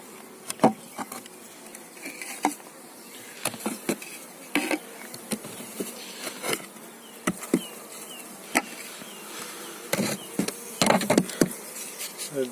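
Honeybees buzz steadily around spring beehives, a close continuous drone with light knocks and clatters of hive work scattered throughout, no talking.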